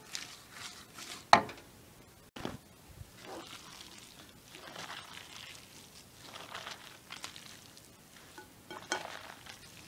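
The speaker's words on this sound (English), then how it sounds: "Give it a good mix." Kimchi is mixed by hand with red paste, giving quiet, irregular wet squelches and soft clatters with a few sharper knocks, close and faint.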